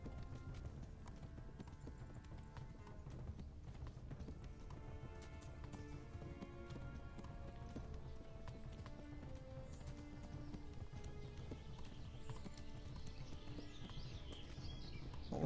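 Hoofbeats of a horse galloping in the video game Kingdom Come: Deliverance, a continuous rapid clip-clop running close by over a bed of game music and ambience, with no talk.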